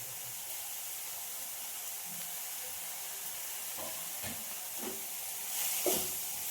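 Grated carrot added to a hot frying pan while making masala wheat dosa, a steady soft sizzle and hiss with a few light knocks and scrapes, and a brief louder spatter near the end.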